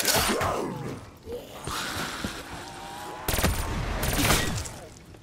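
Hip-fired automatic weapons in Call of Duty Black Ops 3 zombies mode, several sharp bursts of gunfire with louder cracks near the end, mixed with game noise and creature sounds.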